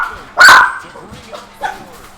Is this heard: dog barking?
yes